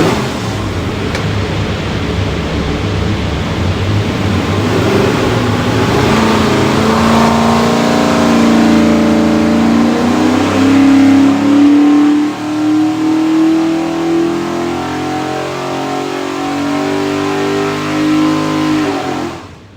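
A Borla-stacked 347 Ford V8 roars on a dyno through one continuous full-throttle pull, loud and close, its pitch climbing steadily before dropping off at the end.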